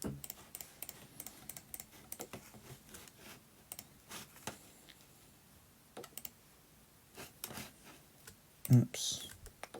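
Rapid, irregular keystrokes on a computer keyboard while drawing in Illustrator, close and fairly soft, with scattered clicks throughout and a louder clatter near the end.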